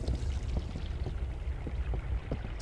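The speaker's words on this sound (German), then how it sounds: "Da hat einer das Wasser laufen lassen im WC." Water left running in a toilet in the horror game Fobia, set in a hotel: a steady, fairly close rushing and splashing flow with soft recurring drips, continuous throughout and with no voices.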